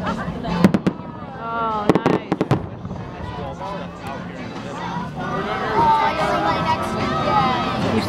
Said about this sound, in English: the first boom was a gas bomb